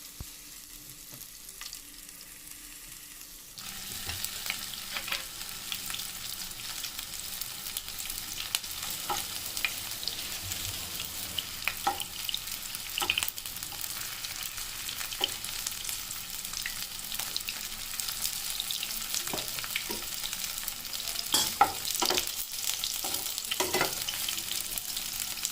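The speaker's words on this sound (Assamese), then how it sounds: "এতিয়া আমি তেলত পনীৰখিনি এনেকৈ এডোখৰকৈ দি ফ্ৰাই কৰি ল'ম।" Paneer pieces fry in a shallow layer of oil for a restaurant-style chilli paneer, a steady broadband sizzle that rises after a quiet start, with occasional sharp pops and crackles throughout, close and continuous with no talking.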